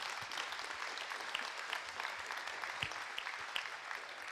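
Audience applause at a Green Party presidential candidates' Q&A, a steady patter of clapping across the hall, fairly faint and distant, with a few sharper individual claps standing out.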